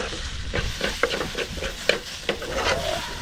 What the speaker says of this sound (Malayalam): മുട്ട ആംബ്ലേറ്റ്